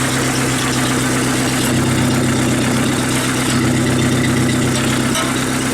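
A 1988 Dodge Dakota 2.2 liter engine with a cherry bomb muffler idles close by with a steady, muffled low rumble that holds even throughout.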